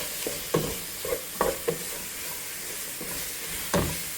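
Ground mint and coriander paste for chicken biryani sizzles in a pan, with a soft steady fry broken by several sharp stirring scrapes and spatters, close by and fairly quiet.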